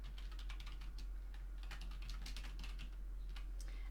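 Rapid, uneven keystrokes clatter on a computer keyboard as a name is typed in for a new test, close and clear over a low steady hum, with no voices.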